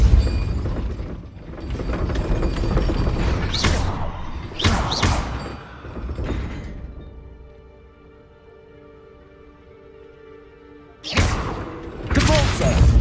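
Depulso spell impacts in the Hogwarts Legacy video game land as a series of sharp, loud thuds and cracks in scattered bursts, with a quieter ringing lull between the clusters.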